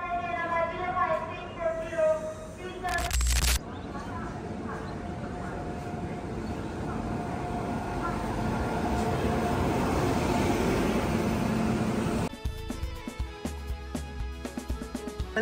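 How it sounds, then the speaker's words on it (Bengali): A passenger train from Kolkata toward Ayodhya pulls away and runs, a rising rumble and rattle of wheels heard from inside a crowded carriage, with people talking and a sharp bump part way through. "ট্রেন ছেড়ে দিয়েছে"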